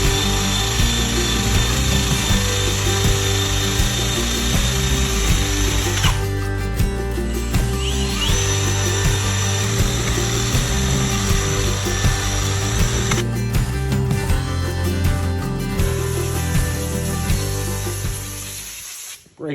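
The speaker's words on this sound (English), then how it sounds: "There's that super expensive 3M eraser wheel." A 3M eraser wheel spins against a Four Winns Horizon 200 boat hull, a continuous loud high-pitched whir and grinding whine that shifts in pitch as pressure changes, briefly easing twice before stopping at the end.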